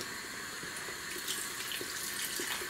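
Hot water from a kitchen tap runs in a steady, hissing stream into a soup pot of cabbage soup, close and continuous with faint clinks, no talk.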